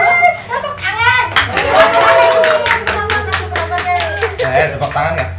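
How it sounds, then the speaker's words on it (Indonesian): Podcast guests and audience clap their hands in a quick burst of loud, close claps that begins partway through, with talking and laughter over it and a steady low hum beneath. "Tepuk tangan."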